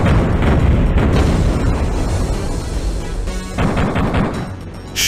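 Video game Raze XR shooter gunfire, a dense, loud barrage of rapid shots and booming blasts with no pause, crackling bursts layered over a low rumble.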